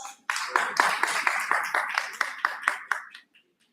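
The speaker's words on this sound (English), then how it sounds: "Give them a huge round of applause." Audience applause for a panel at a school principals' conclave, a sudden burst of clapping that holds steady for about three seconds with sharper individual claps standing out, then dies away into quiet.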